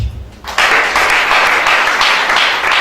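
Church congregation applauding, a dense burst of clapping that starts abruptly and keeps going loud and steady, filling the room after a brief quieter moment.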